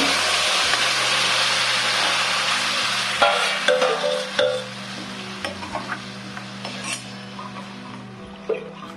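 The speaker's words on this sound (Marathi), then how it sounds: "त्यात आता घुटून घेतलेली आळूची भाजी टाकते" Steamed colocasia (alu) leaves go into a frying pan with ground cumin and coconut and are stirred. A steady sizzle sounds under scattered scraping knocks of a spoon against the pan.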